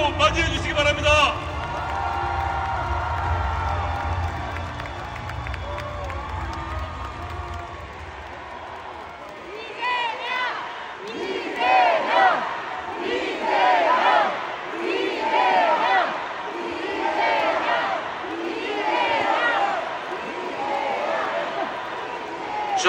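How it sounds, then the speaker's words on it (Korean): A large indoor crowd at a Democratic Party presidential candidate rally welcomes Lee Jae-myung. An announcer speaks over the room at first, then rhythmic chanting and cheering swell in repeated loud waves. "뜨거운 박수로 맞이해 주시기 바랍니다."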